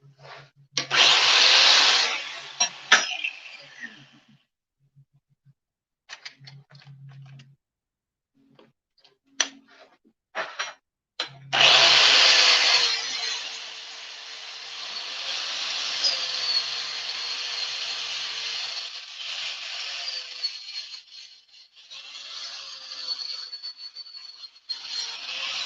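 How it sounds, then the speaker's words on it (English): An angle grinder fitted with a wire wheel is run in short bursts against a hand-forged steel catfish circle hook, a harsh whirring scrub that starts and stops, then holds a longer sustained grind. "I'll hit it with the grinder real quick"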